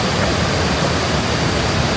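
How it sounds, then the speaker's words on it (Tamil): Kuang Si waterfall in Laos, its brownish water pouring down in a steady, loud broadband rush that fills the whole moment without letting up. "ஆனால் ரியலான வாட்டர் ஃபாலுங்க"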